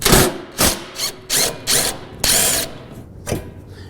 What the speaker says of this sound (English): take out my 13mm socket, go on with my impact, and start to remove these bolts